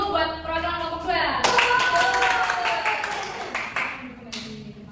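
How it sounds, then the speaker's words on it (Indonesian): A classroom bursts into clapping for a student group, a quick burst of close hand claps that swells and then gradually tapers, with voices talking over it throughout. "Dikasih tepuk tangan dulu buat perwakilan kelompok 2"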